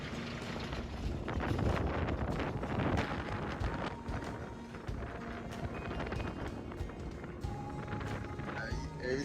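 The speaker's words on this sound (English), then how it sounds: "it's really windy" Strong wind blows across a remote gorge in the Kimberley, buffeting the microphone in a loud, rough roar with faint voices beneath it.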